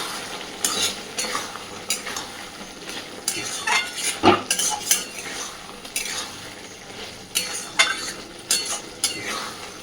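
A spoon stirs a ridge gourd, potato and poppy seed curry in a pan, with repeated scraping and clinking strokes over a soft sizzle and no talk.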